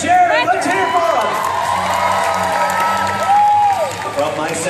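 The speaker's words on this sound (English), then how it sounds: "I want all of you to cheer for the red team of Sarah and Jared" A live audience at a Fear Factor-style event cheers and whoops for the red team, a loud, close crowd roar with shouts and scattered clapping mixed with speech.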